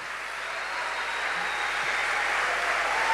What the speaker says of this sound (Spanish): Dale un aplauso más fuerte.